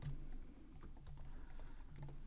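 Steady typing on a computer keyboard produces a rapid run of light key clicks over a low background hum, close and continuous, with no talking.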